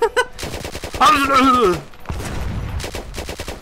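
Gunfire in the Roblox game Syria Simulator: fast automatic bursts rattle between shouted voices and a sustained yell, with a quieter stretch of shots toward the end.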